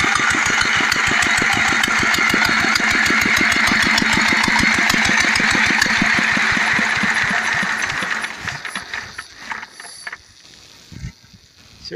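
Small engine-driven water pump drawing water from a lower source up through a pipe to a rice field, chugging in a steady rapid rhythm, loud and close, then cut off around eight seconds, leaving scattered quieter clatter and handling sounds.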